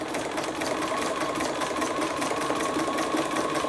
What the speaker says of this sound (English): I do a zigzag stitch on both sides of, you know, where they're hooked